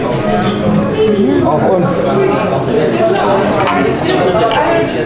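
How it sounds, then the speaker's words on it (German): Glasses of sangria clink together in a toast, a few light chinks heard under lively conversation and people talking close by. "Kleinen Sangria. Komm, wir stoßen an."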